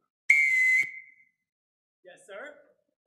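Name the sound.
whistle blown to summon the household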